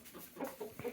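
A few short, throaty clucks from a rooster nearby, quick and uneven within about a second.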